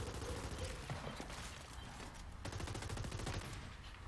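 Rapid, overlapping gunfire from a Gears 5 multiplayer match in classic mode on a training-grounds map, with dense bursts of shots running continuously at steady loudness.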